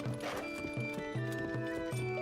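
A horse in a video game clip-clops in a steady rhythm of hoofbeats over continuous game music, fairly close and moderately loud, with no talking.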